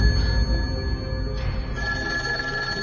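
A public telephone rings, a steady electronic ringing tone layered over a low rumble of background music or ambience, loud and continuous.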